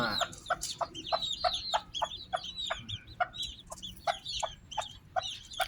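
Ornamental Thai bantam chickens of the Benjarong colour variety clucking in short repeated bursts, several close calls overlapping in a steady irregular rhythm, with no talk.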